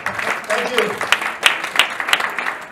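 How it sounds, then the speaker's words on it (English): Scattered audience clapping at a product demonstration, a thin uneven patter of hands with a few sharper claps, mixed with people talking nearby. "let's give them applause"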